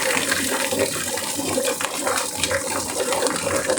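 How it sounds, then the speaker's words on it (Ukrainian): Warm water pours steadily over quails tumbling in a feather-plucking machine, a continuous loud rushing splash with a mechanical churn beneath it and no talk. "Теплою водою поливав."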